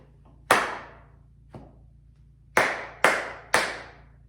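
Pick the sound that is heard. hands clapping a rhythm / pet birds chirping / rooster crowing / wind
hands clapping a rhythm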